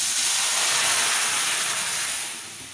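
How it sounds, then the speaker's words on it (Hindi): Hot milk poured into a pan of golden-browned dough pieces sends up a loud, close, broadband sizzling hiss that holds steady, then eases slightly at the end, with no talk. "अब इसमें मैं दूध डालूंगी।"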